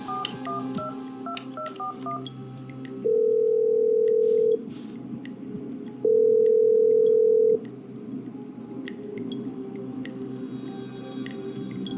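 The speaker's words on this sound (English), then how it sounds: "Okay, I'm dialing." Touch-tone telephone dialing in the video game Killer Frequency: a quick run of beeping keypad tones, then two long steady ringback tones separated by a pause, over a low background hum.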